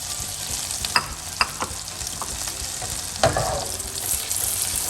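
Butter hitting a hot pan while making tarte tatin, a steady close sizzle with a few sharp clinks and stirring knocks scattered through, no talking.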